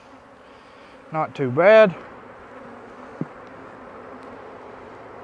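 Honey bees leave an opened hive with a soft, steady buzzing drone throughout, and someone speaks briefly over it near the start.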